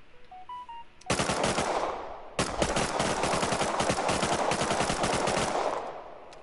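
Rapid automatic gunfire from LR and MP5 weapons in a shooter video game, a short tonal menu blip first, then a long burst, a brief gap and a second sustained stream of loud, dense shots.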